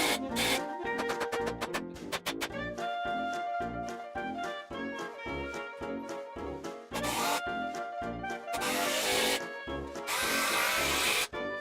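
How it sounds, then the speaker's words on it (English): Repeated bursts of a power drill whirring into wood, speeding up and stopping in short runs, with a screw driven in near the end, while pre-drilling holes and screwing together a workbench of 2x12 lumber. "pre-drill the holes and put down some screws to attach it all together"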